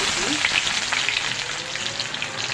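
Steady loud sizzle of bay leaves, cinnamon sticks and cardamom pods frying in hot oil in a wok with onion, a continuous bright crackle with no talk.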